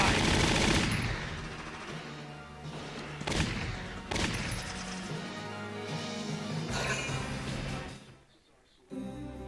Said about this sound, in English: Shooting time!